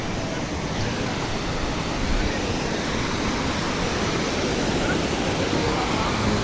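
A waterfall pouring down between two hills in Ooty, a loud, steady broadband rush of falling water that stays constant and close throughout.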